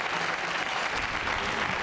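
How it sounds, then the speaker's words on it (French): A TV show studio audience applauds steadily, a dense wash of clapping throughout at a moderate level. "On les applaudit, s'il vous plaît."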